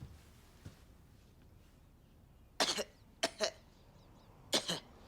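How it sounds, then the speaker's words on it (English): Three deliberate, forced fake coughs from a person feigning illness, the first a single burst followed by two quick double-hacks, loud and close over quiet room tone with no talking. "You call that a fake cough?"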